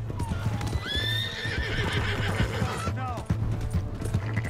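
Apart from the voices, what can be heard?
horse neighing and hooves, Red Dead Redemption 2 video game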